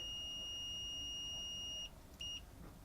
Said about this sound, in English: you should hear a beep when I touch these two probes together